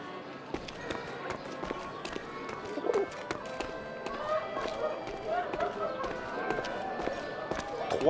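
A pigeon coos in the video game 11-11 Memories Retold, soft repeated calls amid footsteps and ambient clatter in a quiet scene.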